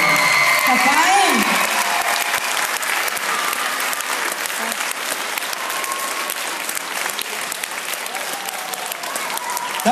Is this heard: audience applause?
yes